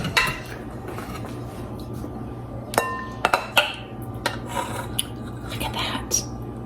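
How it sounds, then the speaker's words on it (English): Homemade sugar-free applesauce being plated into a bowl: scattered clinks and knocks of a utensil against the dish, a few sharper taps, over a quiet kitchen background hum. "Let me get this plated. Put my bowl over here."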